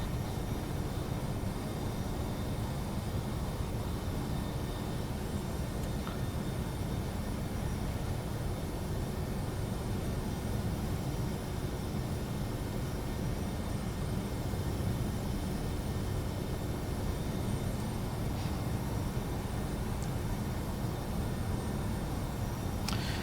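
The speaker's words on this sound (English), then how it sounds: "We're flying the Boeing 717." Steady broadband rushing roar inside the cockpit of a Boeing 717 airliner in flight, constant and even throughout with a faint hum underneath and no talk.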